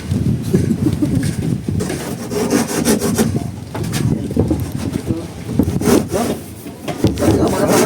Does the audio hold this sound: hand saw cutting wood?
yes